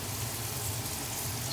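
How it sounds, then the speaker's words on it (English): Steady, soft sizzling of meatballs frying in a Remoska Tria electric cooker, a continuous crackling hiss with no voices. "It's frying nicely."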